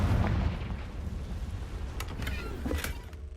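Fire spell explosion in the Hogwarts Legacy video game: a deep, heavy boom at the start that rumbles away, followed by a couple of brighter crackling bursts.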